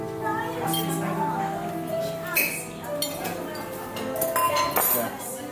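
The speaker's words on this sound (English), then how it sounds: "Only bad audio is silverware noises?" Silverware clinks against dishes in a restaurant in Florence. Light, scattered metallic taps and a few sharper clinks recur throughout, mixed in with people talking nearby.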